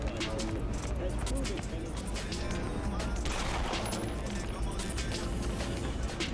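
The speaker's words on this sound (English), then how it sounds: "Heard a gunshot." Gunfire in the video game Cyberpunk 2077 comes as several sharp cracks and bursts scattered through a busy mix of game noise, with voices talking in the background.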